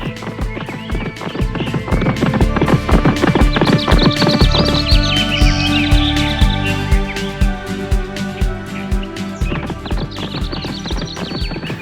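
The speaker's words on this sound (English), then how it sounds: "The horse took off striding." Horse hooves pound rhythmically in a fast gallop, loud and close, with a whinny partway through and the beat continuing to the end.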